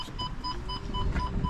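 Short electronic beeps from an Audi Q3 boot lock repeat at a steady pace over a low rumbling background, a thin tone sounding roughly every fifth of a second.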